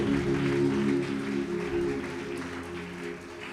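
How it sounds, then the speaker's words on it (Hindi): A church congregation claps their hands together in a sustained, dense round of applause that fades slightly toward the end, with a steady musical drone beneath. "एक और बार ताली बजा के परमेश्वर को धन्यवाद करिए"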